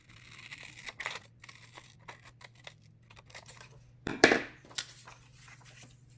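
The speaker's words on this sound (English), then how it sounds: "And just cut your mouth pattern." Scissors snip through fabric while a mouth pattern piece for a face mask is cut out, giving a series of crisp, irregular close-up cuts with one louder rasping snip near the end; quiet between cuts, with no voices.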